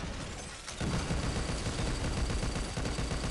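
Cookie-firing gun in the video game Pixel Gun 3D, a dense, continuous rattle of rapid shots that starts after a brief lull and runs without pause.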